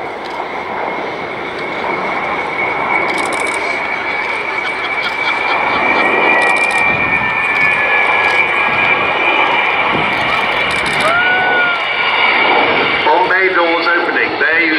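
Avro Vulcan XH558 bomber making a flypast at a Dunsfold air display, its loud sustained jet roar filling the whole stretch, with a public-address commentator talking over it throughout.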